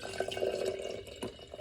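Water from a half cup is poured into a glass jar holding a quarter cup of sourdough starter, making a short, close trickling and splashing sound in a quiet kitchen.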